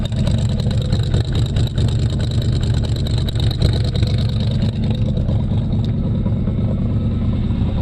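A cheaply bought third-generation Camaro with its engine running steadily, a loud deep rumbling drone that stays constant and close, with no talking over it.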